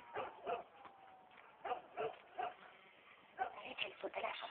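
Dog in The Last of Us video game barking and whimpering in short repeated yips and whines, mixed with faint game sounds and occasional voices.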